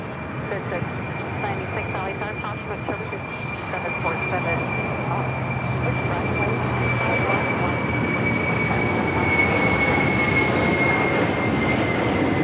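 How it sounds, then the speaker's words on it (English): An Atlas Air Boeing 747 takes off on runway 25 right at LAX, a loud sustained jet roar with a steady high whine that builds slightly as the aircraft rolls, heard from nearby without voices. "we do get that Atlas Air Queen now rolling down 25 right"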